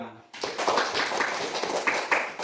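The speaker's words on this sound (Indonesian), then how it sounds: "tepuk tangan dulu untuk masing-masing hasil diskusi dari kelompok 1 dan 2" Students clapping their hands in a classroom after group discussion results in a physical education football lesson; a dense burst of applause starts abruptly and continues for about two seconds, with a voice talking underneath.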